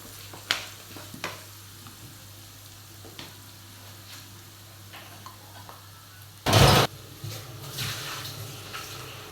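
Turmeric powder is mixed into potato bhaji frying in a pan: a soft sizzle carries faint intermittent scrapes, then a sudden loud burst of hissing splutter near the end before settling back.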